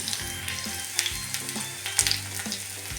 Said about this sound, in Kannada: ಸಾಸಿವೆ ಸಿಡಿಬೇಕು. ಸಿಡಿಯುವಾಗ